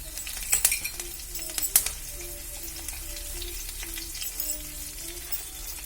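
Mustard seeds, cumin and curry leaves sizzle in hot oil with a steady hiss, a few clinks of a utensil near the start.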